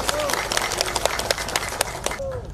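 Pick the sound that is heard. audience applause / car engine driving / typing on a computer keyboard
audience applause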